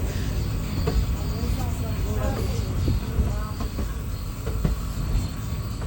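An unreserved passenger train, the Medak to Kachiguda service 57302, runs along the rails near Lalaguda Gate with a steady rumble and scattered clicks and knocks, while a voice talks over it.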